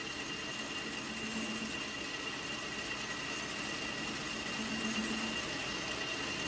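A metal lathe cuts slowly into the base of a chainsaw cylinder, giving a steady mechanical hum and whirr with a faint high tone and a brief low whine twice, close and continuous with no talk.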